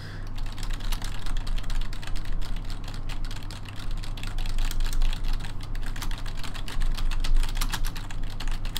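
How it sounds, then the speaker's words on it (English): Fast, continuous typing on a computer keyboard, dense overlapping clicks that stay loud and close for the whole stretch, with no voices over it. "She kind of, like, looks at you and then continues typing."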